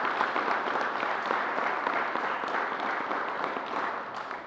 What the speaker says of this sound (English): So let's give New Yorkers a round of applause.